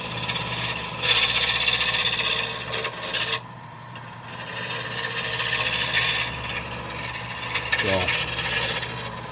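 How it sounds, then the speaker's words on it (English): A roughing gouge cutting wood on a lathe while shaping a mortar and pestle, a continuous rasping, scraping shear with a short pause midway, close and fairly loud, with a single brief spoken word. "this roughing gouge is real nice"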